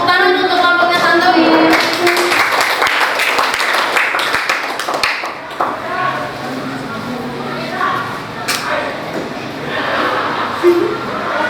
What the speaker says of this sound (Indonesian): Tepuk tangan untuk kelompoknya Tantowi.